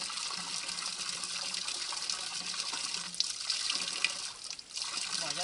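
Water pours steadily from a public fountain into a bottle during a trail run. The hissing splash is continuous and close, with a slight change in tone as the bottle fills.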